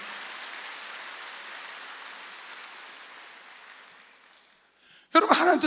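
Church worshippers at a midweek service applaud together, a broad wash of clapping that gradually thins and fades out before a voice comes in loudly at the end.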